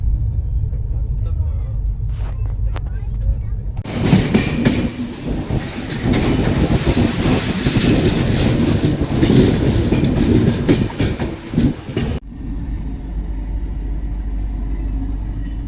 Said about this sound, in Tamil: இப்போ ட்ரெயின் வந்து பாலத்து மேலே போச்சு அப்படின்னா ஒரு சவுண்டுமே கொஞ்சம் வித்தியாசமாக இருக்கும்.